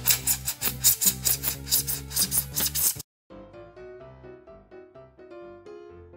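Hand sanding of a carved styrofoam vase form gives about three seconds of rhythmic, scratchy rasping strokes, up close. The sanding then stops abruptly and soft tonal music follows.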